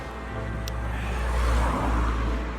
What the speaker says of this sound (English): Just car coming at the moment